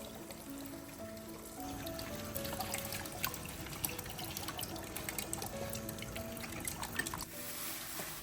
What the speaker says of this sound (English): First, wash your bok choy.